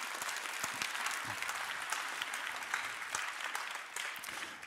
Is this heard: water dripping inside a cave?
no